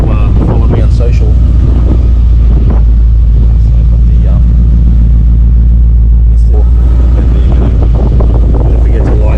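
Strong wind buffets the microphone near a Ford Mustang gathering, a loud constant low rumble and roar throughout, with someone talking over it.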